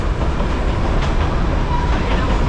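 A Darjeeling Himalayan toy train pulling into the Darjeeling railway station, a loud, close, continuous rumble of rolling stock with faint wheel clatter throughout.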